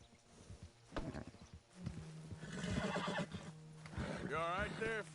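A horse whinnies with a rising, wavering neigh near the end, after hoof clops and some rustling, with brief talk in the background.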